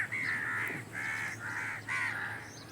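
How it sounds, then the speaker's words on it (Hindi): Several crows feed in a village farm field, giving a run of four loud harsh caws in quick succession, close and clear over faint background noise. "खेत में यहाँ पर देखो कौओं की दावत चल रही है।"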